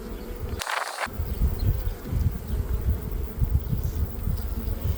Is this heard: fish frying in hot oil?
no